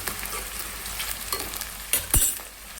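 Onions, green chillies, curry leaves and dried chillies sizzle steadily in hot oil, with a dense broadband crackle, occasional stirring scrapes and a brief louder spatter near the end.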